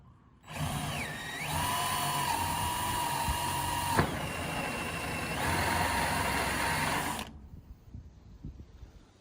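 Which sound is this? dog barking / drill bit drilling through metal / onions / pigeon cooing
drill bit drilling through metal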